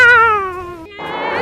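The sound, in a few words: cat screaming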